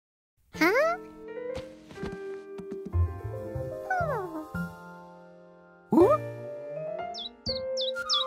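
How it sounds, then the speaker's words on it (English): Cartoon birds chirp brightly in a morning scene, with rising whistled tweets and sliding chirps over musical tones, near and lively, ending in quick high twitters. "he woke up to the sound of happy birds."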